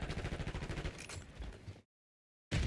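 Gunfire in the Black Ops 6 video game as an enemy sniper shoots: a dense burst of loud, closely spaced shots for nearly two seconds, then a sudden silence before the firing cuts back in.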